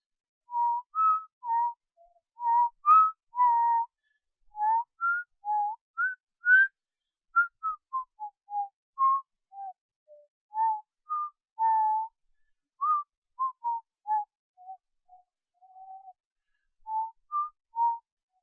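A person whistles a melodic tune alone, a steady run of clear, bright notes rising and falling with short pauses between phrases.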